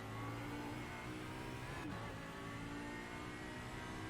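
An Audi R8 LMS EVO II GT3 race car in iRacing at Imola, its engine droning loud and steady throughout as the driver shifts down late into a corner.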